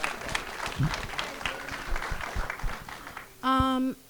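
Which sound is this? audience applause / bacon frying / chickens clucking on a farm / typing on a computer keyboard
audience applause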